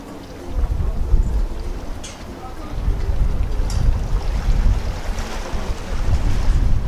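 Waves washing in a North Sea harbour at North Berwick, Scotland, a steady low surf rumble with gusting wind buffeting the microphone and no speech.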